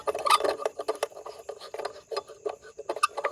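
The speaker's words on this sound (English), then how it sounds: "That's how you know a light bulb's broken. Give it a shake and it rattles." Small loose fragments of a broken light bulb rattle and clink in quick irregular bursts as the bulb is shaken, close and fairly quiet.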